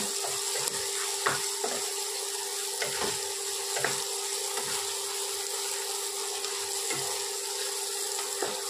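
Chopped green chillies frying in hot oil in a pan for a mushroom curry, giving a steady sizzle with intermittent clicks of a spoon stirring through it.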